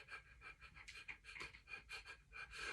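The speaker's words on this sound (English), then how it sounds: "You take shallow breaths." Quick, shallow rhythmic breaths for an autogenic drainage breathing exercise, panting in and out close by at a steady pace, with no talk.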